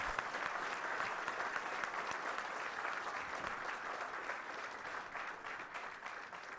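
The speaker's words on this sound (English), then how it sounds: "I want a loud clap and welcome to Honorable Governor" Continuous audience clapping welcoming the Governor of Telangana at a Suryapet district gathering, a dense, steady wash of applause heard from some distance and fairly faint.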